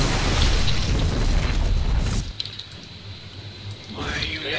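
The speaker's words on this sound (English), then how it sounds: "There's a kaboom, baby!" A loud, dense explosion in the StarCraft 2 video game roars for about two seconds and then cuts off abruptly, leaving a quieter stretch of game sound with a faint voice underneath.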